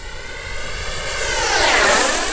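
H-King Viper 64 RC electric ducted-fan jet with a 64mm fan on a 6S setup, making a full-power downwind pass: a steady high-pitched whooshing whine that swells louder as it closes in and sweeps past, with a falling pitch.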